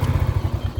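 A Rusi 110 motorcycle engine idles with a rapid, even, low putter of firing pulses, heard up close just as it is being switched off, with no voices present.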